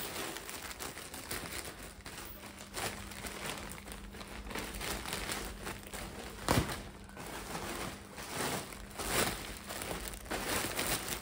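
A delivered cargo package being opened by hand, with continuous close plastic crinkling and rustling punctuated by a few sharper crackles and tearing sounds, with no talk.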